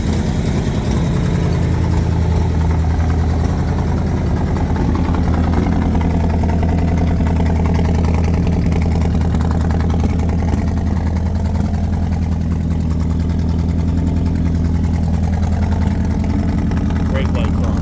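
A 1960 Pontiac Bonneville V8 engine idling with some blow-by after being revived, a loud, steady low rumble that runs on throughout with slight unevenness, and voices talking over it.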